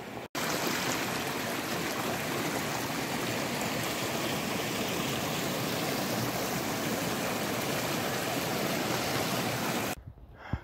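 A mountain stream in the Giant Mountains rushes steadily on a winter trek, a dense, even wash of flowing water close by that runs unbroken for about ten seconds before cutting off.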